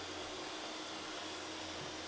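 Eufy S1 robot vacuum and mop running indoors, a steady broadband whir with a faint low hum, close and unchanging throughout, no voices.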